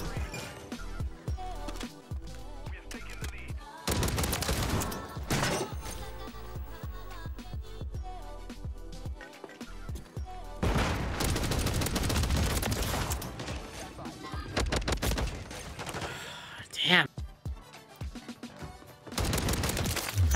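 Sidewinder light machine gun in Modern Warfare 3 firing in long sustained bursts of rapid, loud automatic shots, separated by short lulls, with game effects and a voice speaking at times.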